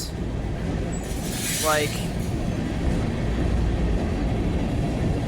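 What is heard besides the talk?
BNSF freight manifest train passing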